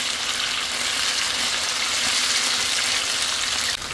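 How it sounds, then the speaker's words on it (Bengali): Thin slices of beef fry in oil over high heat for a Chinese beef chilli, giving a loud, steady, dense sizzle that runs unbroken until a brief dip just before the end, with no talking. "আমি কিন্তু এইভাবে মাংসগুলো হাই হিটে তেলে ভেজে নিচ্ছি।"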